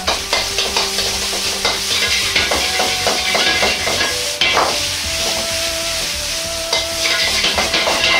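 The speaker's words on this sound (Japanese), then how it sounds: "鍋を煽りながら炒め、" Continuous sizzling and frying of rice with egg and homemade lard, with rapid metallic scraping and clanking of a ladle against a wok, busy and close, with no talking.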